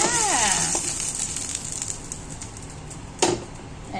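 Food fries in a pot with a steady hiss and crackle, joined by faint background chatter and a sharp clatter near the end.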